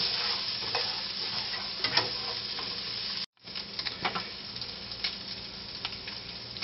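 Diced spam and garlic sizzle in a frying pan with steady hissing and a few scraping stirs, broken by a brief drop-out near the middle before the frying resumes.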